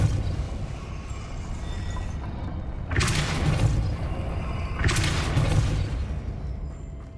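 Two heavy whooshing bursts from the Depulso force spell in Hogwarts Legacy, each a broad rushing blast a couple of seconds long over a steady low game background.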